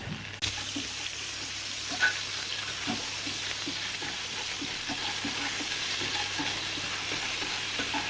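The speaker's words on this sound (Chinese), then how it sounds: "咸鱼进来，把咸鱼炸香" Salted fish deep-frying in oil in a wok, a steady dense sizzle and bubbling held at an even level throughout, with a faint clink near the start and scattered crackles.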